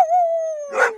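A single dog lets out a clear, drawn-out howl that slides slightly downward, ending in a brief rough bark-like burst, close and loud with no talking.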